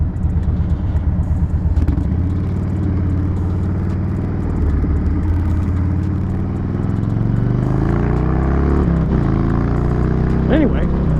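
A Harley-Davidson Dyna motorcycle rides along a road, its steady engine rumble and wind noise loud and close throughout, with a rider's voice partly heard over it.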